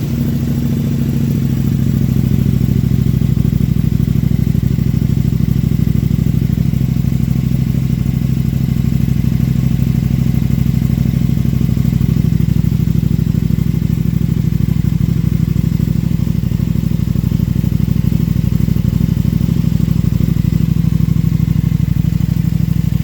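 A 2018 KTM 1290 Super Duke R fitted with a Power Commander idles steadily after starting, a loud, even low engine rumble with faint clatter running unbroken throughout, no voices.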